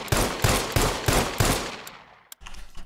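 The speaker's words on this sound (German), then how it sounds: "ich will nur das Brett wegschießen" Rapid bursts of gunfire from a firearm in the SCUM video game, aimed at a simple wooden board: five loud evenly spaced shots in quick rhythm, each with a decaying tail, then a short gap and a final quieter shot.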